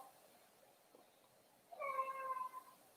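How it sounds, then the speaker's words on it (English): A house cat meows once, drawn out and fairly clear, after a quiet stretch of room tone, fading out at the end. "Oh my gosh, Jinxie cat. You're ridiculous"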